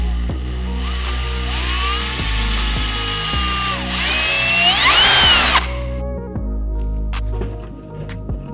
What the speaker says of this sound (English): A way to drop that is by drilling this guy out.